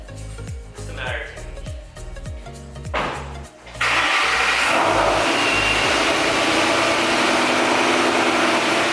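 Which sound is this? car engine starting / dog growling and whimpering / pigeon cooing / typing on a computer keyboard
car engine starting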